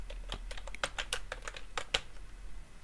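Fingers type a username on a computer keyboard in a quick, uneven run of light, close key clicks, quiet and with no voices.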